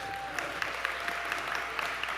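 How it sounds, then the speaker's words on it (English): A church congregation at East gives a round of applause, a moderate, even patter of many hands with a few sharper individual claps standing out, fairly distant and without speech. "you are more than welcome to give him a thunderous round of applause here at East"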